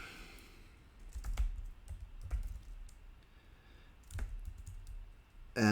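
Soft, quiet typing on a computer keyboard in two short bursts of clicks separated by a pause, ending with a louder thump.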